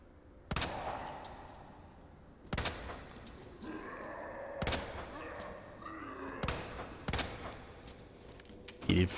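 Gunshots ring out in the video game Resident Evil 2 Remake: five sharp, evenly spaced blasts about two seconds apart. Faint groaning sounds between the shots, and a voice talks under them.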